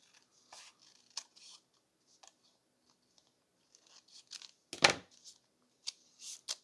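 Paper cut with scissors to make a tearaway notebook: quiet, sparse snips and rustles with a louder crisp cut in the middle, heard alone in a silent room.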